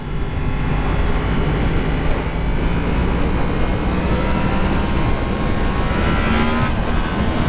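Yamaha MT-10 motorcycle engine revving at high rpm, a loud, dense and constant roar heard close up while riding, with wind rush and no pause across the whole stretch.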